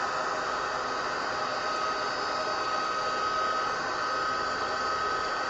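An embossing heat tool blows hot air over butterflies, giving a steady, close, unbroken whooshing hiss that holds at an even level throughout, with no talking.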